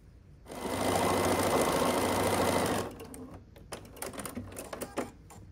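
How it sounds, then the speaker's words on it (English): Sewing machine stitching fabric pumpkin strips together, a loud, fast, steady mechanical whir for about two seconds, then stopping and followed by scattered handling clicks and rustles. "So I'm just going to sew these all together, and then we'll have our pumpkin."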